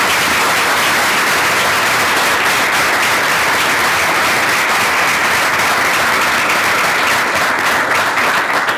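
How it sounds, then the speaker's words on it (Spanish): Seminar audience gives a loud, sustained round of applause for a speaker after a talk on creative sound, a thick, even roar of clapping hands that fills the whole stretch without pause. "Vamos a darle un aplauso a Rodrigo."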